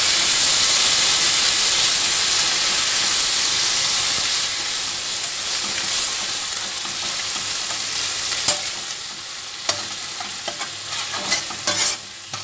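Paste of five medium onions frying in oil for karaaile, a loud steady sizzle and hiss with intermittent scraping clinks of stirring near the end.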